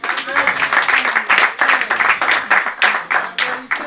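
Church congregation at a Sunday service applauding and cheering, a rhythmic burst of claps and voices rising and falling in waves, loud and close.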